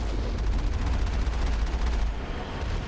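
Sustained gunfire against snipers in the video game Mass Effect 1 on PC, a heavy, rapid volley of shots with booming low thuds, loud and close for most of the moment before easing off.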